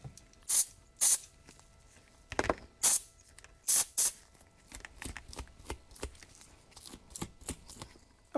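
Small brush scrubbing electronic cleaner over oxidized wire contacts on a camper roof lift motor, heard as a series of short, close scratchy strokes, a few louder bursts early then a quicker run of lighter brushing, with no talk.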